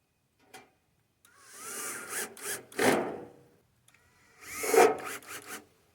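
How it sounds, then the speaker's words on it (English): Screws being driven to fix an electrical box onto a small example wall: two bursts of grinding, rasping screw-driving noise with brief gaps, fairly close and alone without talk. "We're going to start off by screwing the electrical box to the wall."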